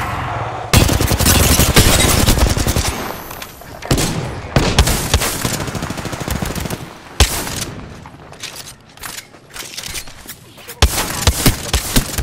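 Enemy gunfire erupts in an Apex Legends firefight, with loud rapid automatic bursts and single shots crackling in a dense, uneven barrage from start to finish.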